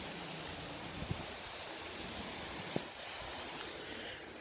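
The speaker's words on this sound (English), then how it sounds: "So as you can see, it's raining." Rain falls during a road trip as a steady broadband hiss, with a couple of faint soft knocks and no talk.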